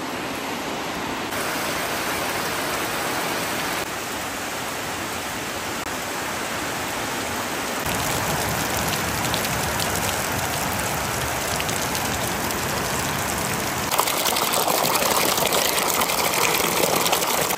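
Heavy rain pours down steadily in a continuous broadband hiss, loud and unbroken for the whole stretch, with no voices over it.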